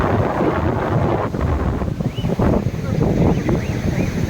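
Loud, buffeting wind rumbles against the microphone continuously at a seaside beach, roaring and gusting, with faint indistinct sounds of sea waves beneath.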